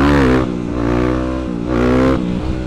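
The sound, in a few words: motorcycle engine revving during a wheelie attempt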